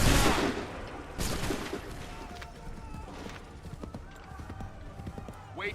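Musket volley from an American Revolution reenactment, a loud ragged burst opening the clip with a second crackle of shots after it, echoing outdoors as commands are shouted and horses move nearby.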